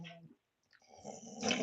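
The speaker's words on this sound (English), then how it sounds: "Can you see my dog?" A 13-year-old pit bull growls and whines close by, a low rumbling start, a short pause, then rising whimpering and growling noises getting louder toward the end.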